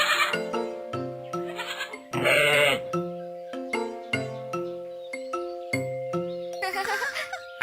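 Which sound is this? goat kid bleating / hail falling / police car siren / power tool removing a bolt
goat kid bleating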